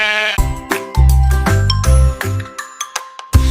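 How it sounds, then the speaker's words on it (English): A sheep bleats several times in quick bursts, loud and near, mixed with light bell-like dings and chimes in a lively children's farm-animal sound sequence. "I am a sheep. I ba ba."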